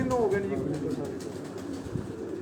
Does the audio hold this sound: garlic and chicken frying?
no